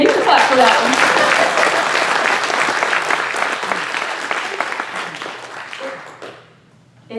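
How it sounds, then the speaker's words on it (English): An audience claps at a spiritual talk, a full burst of applause that holds steady and then tapers away to near silence at the end, moderately loud. "you can clap for that one"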